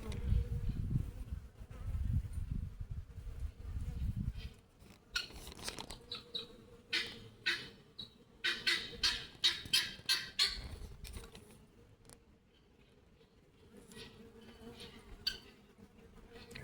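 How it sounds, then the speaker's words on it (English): Insects buzz close to the microphone outdoors in spring near sugar water set out for bees, with a fly or bee droning in irregular bursts over a low rumble and faint background sounds. "that was a fly"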